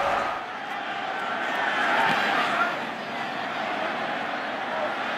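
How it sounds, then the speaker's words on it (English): A football stadium crowd waits for a Devin Hester kick return with the Bears, a steady, distant roar that swells slightly midway and holds without breaks. "Listen to the anticipation of this crowd"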